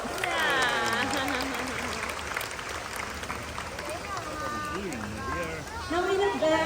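Audience applause rises at the High Flyers bird show at Jurong Bird Park, a steady wash of clapping that runs the whole time beneath a presenter's voice and other tonal sounds.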